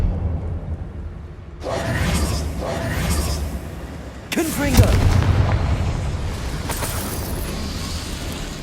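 A Confringo blasting spell goes off in Hogwarts Legacy, a loud booming burst that erupts suddenly and rumbles on, with a second heavy blast following a few seconds later amid game sound.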